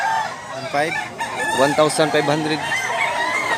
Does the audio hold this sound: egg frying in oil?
no